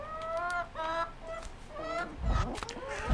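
A chicken in the farming video game We Harvest Shadows clucks repeatedly in short, bright bursts with a steady pecking rhythm, clear and close over a low background hum.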